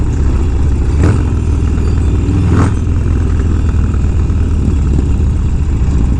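A high-performance Harley-Davidson motorcycle engine running close by, a loud steady rumbling drone held evenly throughout with a couple of brief surges.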